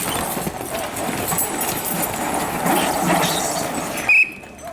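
A draft horse team of about 3,325 pounds pulling at a fall fair horse pull, loud grinding rumble of the dragged load with hoof clops and harness clatter, then a brief high squeal before it drops off.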